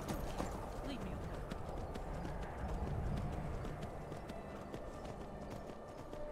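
Horse hooves in the video game Skyrim clip-clop in a quick, steady rhythm, with a voice talking over them.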